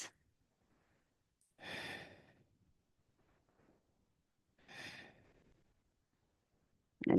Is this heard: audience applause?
no